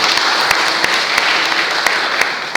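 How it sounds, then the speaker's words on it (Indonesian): A church congregation claps for Jesus during a Sunday morning service at GPdI GAMA 45 in Pontianak. Sustained, loud, close applause fills the room, with a few sharper individual claps standing out. "Tepuk tangan Tuhan Yesus."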